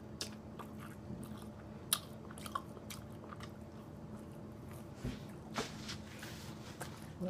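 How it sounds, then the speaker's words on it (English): Fries are chewed close to the microphone, with quiet, irregular crunches and bites, a few sharper crisp snaps standing out over a soft background. "I can eat the rest of these fries."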